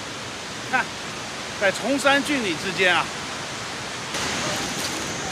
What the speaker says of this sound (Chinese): 刚才的是大瀑布，这个是小瀑布